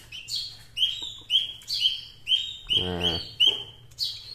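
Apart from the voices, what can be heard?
baby bird chirping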